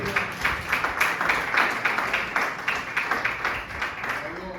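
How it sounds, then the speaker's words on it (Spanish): A church congregation claps in a fast, steady rhythm during a Spanish-language service, loud and close, with voices carrying over the beat. "Denle un fuerte aplauso al Señor Jesucristo."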